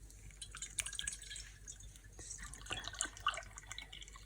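Avocado leaf dye liquid pours and drips into a glass container, a soft, uneven trickle with scattered droplet splashes, heard close and fairly quiet with no talking.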